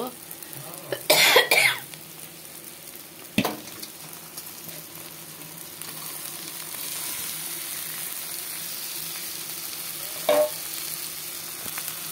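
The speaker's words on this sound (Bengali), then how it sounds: "এখন মাছগুলো ঢেলে দেব।" Fish is tipped into a pan of hot fried spice paste with a short, loud burst of clatter and spitting, followed by a long, steady sizzle; a brief cough or vocal sound and another short clatter break through later.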